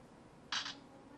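A single short electronic shutter click from a Casio EXILIM C721 phone camera, crisp and close, stands out briefly against quiet room hiss.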